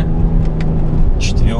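Interior of a Lincoln MKX accelerating hard, a loud close engine drone with a brief shift flick as a paddle shifter changes gear, speech-like noise faintly mixed in.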